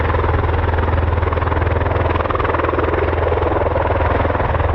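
A CV-22 Osprey tiltrotor with two Rolls-Royce T406 turboprop engines, 6,150 horsepower, roars loud and steady at an air force display, a continuous heavy drone with a fast rhythmic rotor beat.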